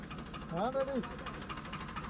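A tracked machine with its track slipped off runs its engine in a steady, rhythmic chug, while a brief voice rises over it near the start.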